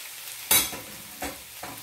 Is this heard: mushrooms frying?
yes